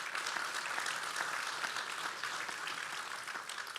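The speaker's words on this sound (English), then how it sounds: "So a round of applause for all of you." A crowd at a Marine Corps birthday ball gives steady, continuous applause, a dense wash of many hands clapping at an even level from start to finish.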